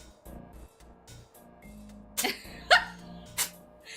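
Dog sneezing three times in quick succession indoors, sharp short bursts spaced about half a second apart over a quiet background with soft music-like tones.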